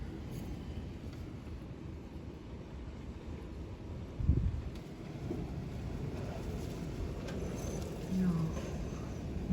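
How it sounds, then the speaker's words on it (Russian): Very strong howling wind in stormy weather at a house in southern Russia's Kuban region, a continuous low roaring rumble with a few louder gusts, including one around the middle. "Сильный ветер вообще, очень сильный."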